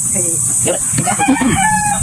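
Chickens cluck and a rooster crows close by, layered over a steady high-pitched background hum.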